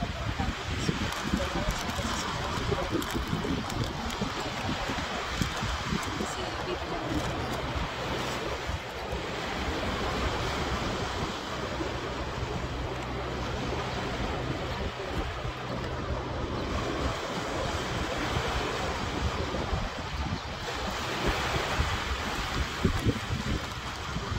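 Strong wind roars across the microphone at the seaside while ocean waves wash and surge in a continuous, loud, unbroken wash throughout.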